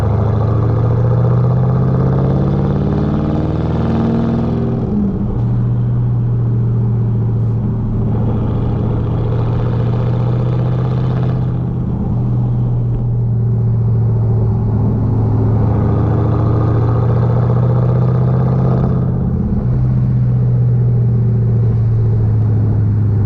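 Porsche Cayenne Turbo SUV engine and exhaust heard from inside while driving, a loud, continuous low rumble that rises and drops in pitch through several gear changes.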